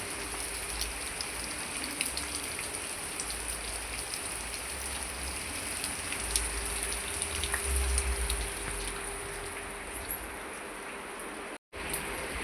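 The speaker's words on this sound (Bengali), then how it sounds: "বাইরে খুব বৃষ্টি হচ্ছে বৃষ্টি হচ্ছে" Steady, dense rain hisses continuously, with a low rumble beneath and no voices.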